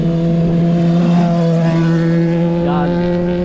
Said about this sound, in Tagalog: Tanan nyo ang mga motor ho dito.